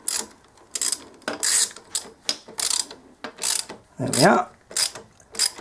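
A ratchet tightens a bolt on the engine of a Keeway RKS125, a Chinese 125 cc motorbike, giving repeated bursts of close, crisp clicking with short pauses between strokes; someone speaks briefly near the end.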